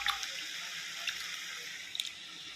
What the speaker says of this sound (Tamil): இப்போ நம்ம வேகத்துக்கு தண்ணி ஊற்றிக்கலாம்